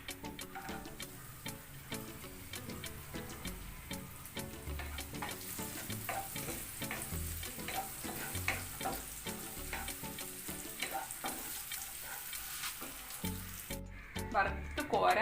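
Raisins frying in a pan while making rava kesari, a busy crackling sizzle with rapid ticking pops throughout, close and fairly steady over the whole stretch.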